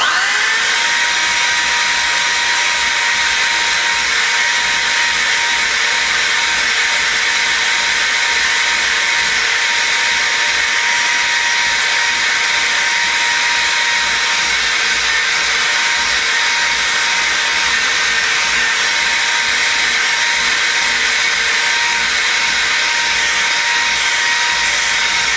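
A disc sander fitted with 60 grit abrades hardened Kwikwood wood filler, a loud, steady whir with an abrasive rasp that runs unbroken and alone the whole time.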